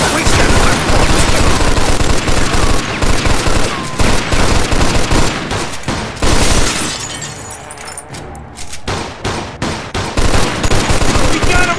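Loud, dense gunfire in the Mafia II video game, rapid overlapping bursts and shots with breaking and shattering impacts, briefly easing before heavy firing resumes.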